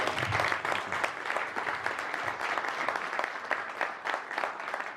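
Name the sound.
audience round of applause for the speaker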